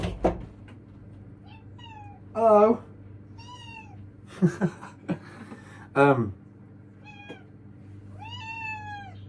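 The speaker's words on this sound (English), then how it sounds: "I'm gonna let this cat in." A cat meows several times at a doorway, drawn-out rising and falling calls of moderate loudness, mixed with a few short knocks and brief human vocal sounds over a faint background hum.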